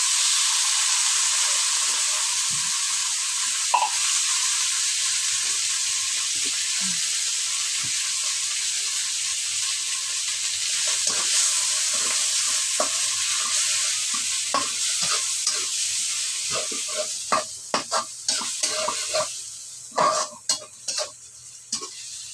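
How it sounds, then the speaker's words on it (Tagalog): Corned beef fries in a pan with a steady, bright sizzle under close metal scraping and stirring, and the clinks and scrapes grow more frequent toward the end, with no voices. "Ayan, lagyan na natin ang corned beef."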